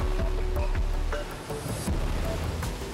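Atlantic waves surge and crash against the rocks on the Galician coast, a loud, continuous roar of churning water with no voices.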